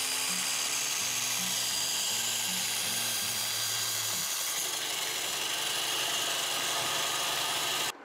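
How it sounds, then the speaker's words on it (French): A CNC router cuts a small wooden plate with a 6 mm bit, a steady high whine with a pulsing lower motor tone that shifts pattern midway, continuous and close, with no talking. "J'ai installé ma plaquette sur la CNC et la première chose que je vais faire, c'est avec une fraise de 6, je vais la détourer aux dimensions exactes"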